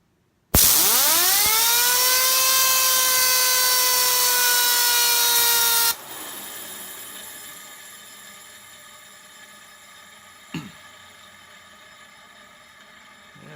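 A biohazard-style fidget spinner spun up by an air compressor: a sharp blast of hissing air with a rising whine for about five seconds, then cutting off to leave the spinner's fading tonal hum and a brief clunk.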